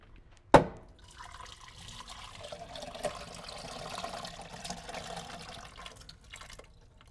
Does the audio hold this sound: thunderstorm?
no